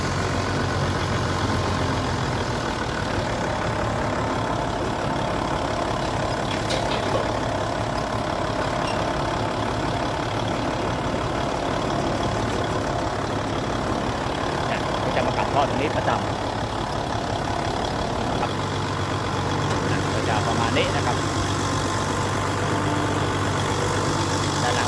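A low, steady engine idle hums throughout, with a constant rumble and some faint background noise, no sharp changes.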